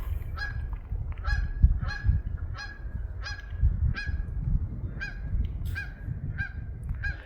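A pair of geese honk repeatedly at a steady rhythm beside Lake Eleanor in Yosemite's backcountry, moderately close, over a low rumble of distant waterfall and wind.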